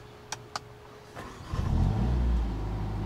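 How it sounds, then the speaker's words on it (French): A couple of sharp clicks, then the four-cylinder engine of a Mercedes-AMG A45 S cranks and fires up into a loud, steady idle. "faut écouter le son, tu vois, du 4 cylindres"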